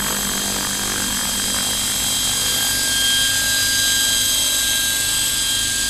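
A scale RC helicopter flown with a DJI Wookong-S controller hovers and pirouettes in place, its rotor and motor giving a loud, steady high whine with a continuous drone.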